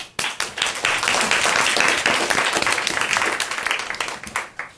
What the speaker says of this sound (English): We have to applaud her first.